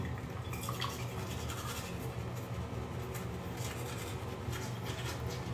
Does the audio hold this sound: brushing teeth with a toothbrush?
yes